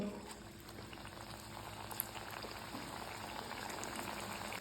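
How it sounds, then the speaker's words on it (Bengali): Semolina suji pitha fry in hot oil in a wok, giving a dense, steady bubbling hiss that carries on without a break and stays close and even throughout. "তেলটা খুব ভালোভাবে গরম হয়ে গেছে এবার আমি পিঠেগুলোকে ভেজে নেব"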